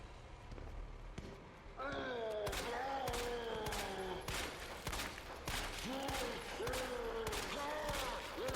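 Gunfire aimed at a zombie in Resident Evil 2, with a run of sharp, loud shots that repeat at an irregular pace over game music and other effects, and a voice talks briefly.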